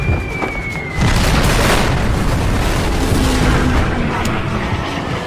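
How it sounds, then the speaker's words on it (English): Heavy bombs burst near the battleship Yamato in a naval air attack, deep booming blasts and rumbling roar filling the scene, loud and sustained with sharper cracks layered over. "bombs strike aft of the battleship's superstructure"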